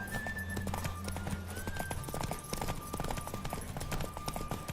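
Horse hooves clip-clop steadily in Witcher 3, a continuous rhythmic trot running under busy game music and effects throughout.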